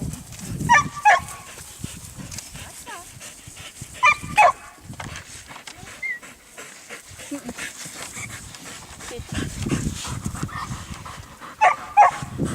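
A herding dog barks a few scattered times outdoors near sheep, with panting and soft yips between, fairly near amid rustling background noise.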